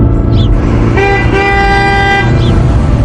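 A cartoon vehicle sounds a sustained, bright horn toot lasting about a second as it pulls away. A continuous low engine rumble runs underneath, with faint chirps at either side.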